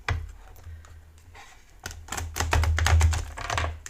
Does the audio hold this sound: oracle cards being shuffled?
yes